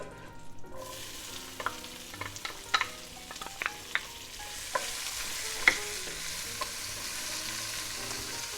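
Onion is frying with pancetta in hot olive oil, a continuous hiss of sizzling under scattered sharp clicks and scrapes from stirring, close by and without any talking.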